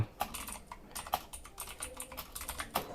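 Fingers type on a computer keyboard in quick, uneven bursts of close clicks and taps, with a few louder keystrokes standing out.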